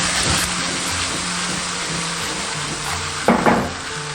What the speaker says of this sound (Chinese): 开大火翻炒1分钟。